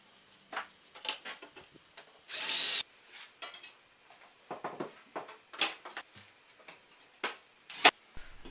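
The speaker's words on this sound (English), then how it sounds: "Start off by screwing a small piece of stud onto the existing horizontal panel." Power drill driving screws to fix a small piece of wooden stud onto a horizontal panel for a stand, with short close bursts of tool noise and clicks, including one longer whirring run, separated by quiet gaps.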